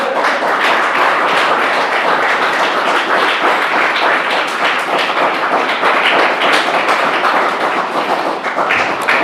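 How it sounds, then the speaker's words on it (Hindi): A church congregation claps together during a Sunday service at Voice of God Church, Balrampur. The loud, dense patter of many hands keeps a steady rhythm throughout, close and full, with no talking over it. "क्या परमेश्वर की महिमा के लिए आप ताली बजा सकते हैं?"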